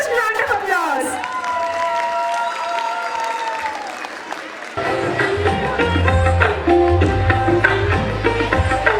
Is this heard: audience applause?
yes